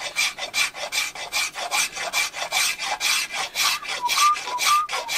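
Steel scraper rasping across an ebony fretboard on a Trace Elliot T bass in a workshop, a dull scraper in need of sharpening, making steady back-and-forth strokes, about a dozen in quick even rhythm, close and clear with no talk.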